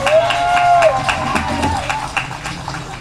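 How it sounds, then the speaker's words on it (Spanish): Audience applause and cheering fill a Christmas recital hall, a steady crowd wash under a brief sustained musical tone near the start, carrying on at an even level for a few seconds. "Un fuerte aplauso para ella."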